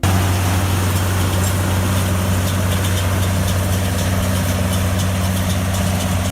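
A John Deere 4440 tractor engine from the 1980s runs at a steady idle, a loud, constant low rumble with a mechanical drone and no breaks.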